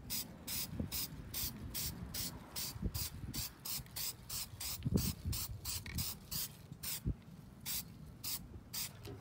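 Spray can applying the first coat of paint to a DIY repurposed planter, heard as a steady series of short hissing bursts with rattling handling noises between them, close by and without talk.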